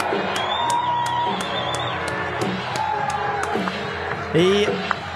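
A crowd at the Libertarian National Convention cheers and whoops after a speech, a dense roar of shouts and scattered claps that swells near the end, with some speech mixed in.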